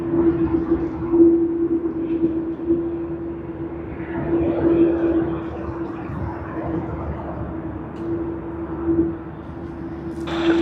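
A Xiamen Air Boeing 787 at Sydney Airport gives a steady, moderately loud jet engine roar with a constant whine, holding even for the whole stretch and rising slightly at the very end.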